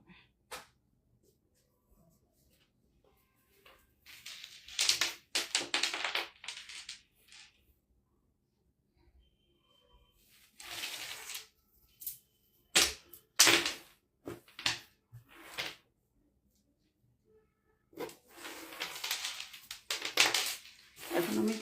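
Garments from a fashion live stream are folded, making intermittent bursts of soft fabric rustling and flapping that are close and fairly quiet, with silent pauses between them.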